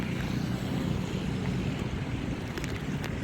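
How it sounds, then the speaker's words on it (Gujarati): Heavy monsoon rain over the flooding Hiran and Saraswati rivers in Gir Somnath district makes a dense, continuous roar of rushing water, loud and unbroken throughout, with no voices. "અત્યારે પણ વરસાદ કન્ટિન્યુ ચાલુ જ છે"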